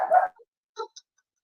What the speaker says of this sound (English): I cannot control your dog either, Maddy.